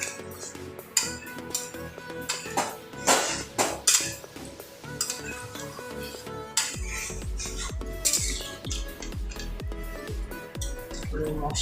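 A spoon stirs a curry of potato and paneer in raisin paste with water in a cooking pot, producing repeated clinks and scrapes against the metal, fairly loud and irregular, with other tonal sound running underneath.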